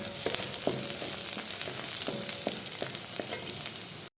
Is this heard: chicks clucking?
no